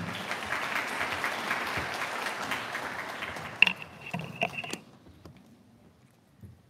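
An audience at a school admissions briefing gives warm applause to welcome a speaker. The clapping is steady at first, then thins to a few scattered claps and fades to near silence.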